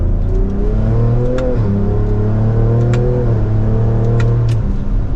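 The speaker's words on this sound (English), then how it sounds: "But let's drop a few gears here and give it some gas." A 2024 Ford Ranger Raptor in sport mode, its exhaust revving up through a few gears, engine pitch climbing and dropping in loud close-up pulls with no talk.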